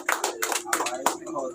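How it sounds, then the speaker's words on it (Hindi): An audience claps to welcome a guest at an Independence Day gathering, a short burst of brisk, uneven applause at moderate distance. "कई तालियों से स्वागत कीजिए।"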